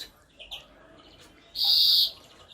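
A greenfinch's bright, high chirps ring out alone, a couple of short calls early on, then a louder sustained trilling burst before fading.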